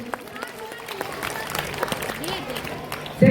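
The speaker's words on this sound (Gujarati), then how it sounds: "તાળીઓ સાથે આપણે વધાવીશું" Applause rises from an audience at a school family day lucky draw, a light continuous clatter of many hands beneath crowd murmur, fairly distant and moderate in level.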